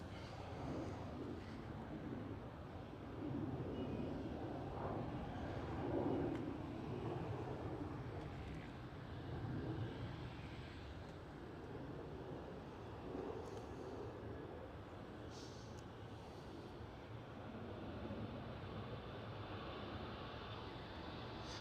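A KLM Cityhopper airliner at Amsterdam Schiphol gives off a distant, broad jet roar that swells and fades gently over a long, steady stretch of outdoor rumble.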